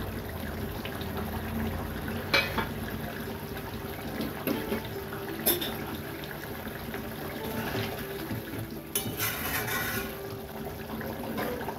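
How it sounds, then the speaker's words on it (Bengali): Boal fish kosha gravy simmering in a pan, a steady low bubbling and sizzle that runs throughout, with a few faint clinks and no talk. "দেখুন ঝোলটা আমার ফুটছে"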